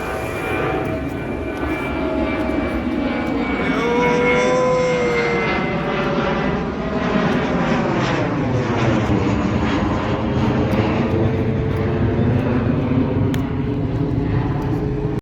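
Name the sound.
plane taking off at Almaty airport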